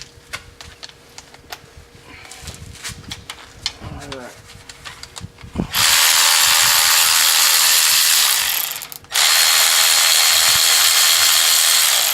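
A ratchet wrench loosens valve cover bolts on a car engine: brief clicks and clanks of tools first, then a long, loud, steady buzzing ratchet run with one short pause.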